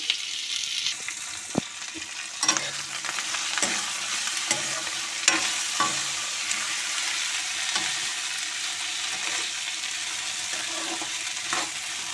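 Okra fries in hot oil on a home stove with a steady loud sizzle, broken by occasional stirring clacks and scrapes, and no talking.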